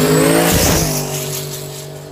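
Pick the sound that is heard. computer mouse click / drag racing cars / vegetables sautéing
drag racing cars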